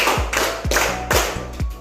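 Students clap in a steady counted rhythm, four sharp claps about half a second apart, close and loud in a classroom with no voices over them.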